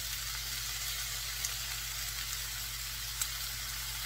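Chicken and vegetables fry in a pan over medium-high heat for pan-fried noodles, giving a steady, close hiss of sizzling with a few faint pops and no voices.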